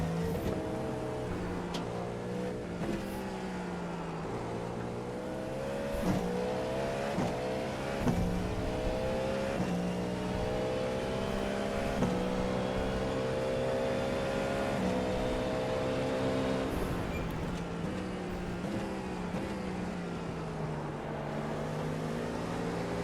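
A Porsche race car in the iRacing simulator holds a steady, loud engine drone with shifting revs and rising, falling pitch, running continuously with no talk.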